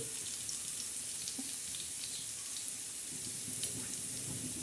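Onion and cumin tempering sizzles on a hot griddle, giving a faint, steady frying hiss with small crackles and no talking over it.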